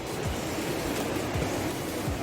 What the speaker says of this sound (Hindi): ये देखो झरना।